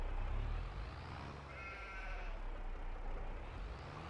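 Sheep bleat near a pen in Farming Simulator 22, a single clear mid-length bleat rising over a steady low rumbling background of game ambience and machinery, with no talking.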